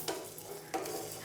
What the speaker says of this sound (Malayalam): ഇതുപോലെ ചെറുതായിട്ട് ഇങ്ങനെ പൊട്ടുന്ന ആ ഒരു സൗണ്ട് കേൾക്കുന്നില്ലേ?